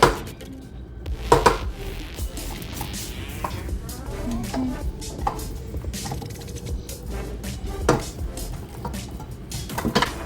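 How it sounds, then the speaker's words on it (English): A spatula scrapes butter from the sides of a mixing bowl while sugar cookie dough is made, irregular close scraping and clattering knocks of bowl and utensils, with a little talk in the background. "Just scrape all the butter off the sides so everything is mixed together good."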